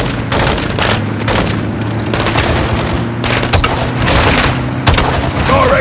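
Loud, heavy booms and crackling blasts from a launcher rocket explosion in the midst of combat, with repeated impacts and rumbling debris close by.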